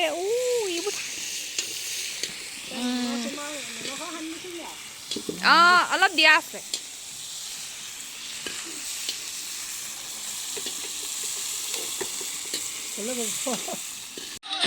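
Pork pieces frying in a wok at a home cook's kitchen, a steady sizzle running throughout beneath several stretches of talk.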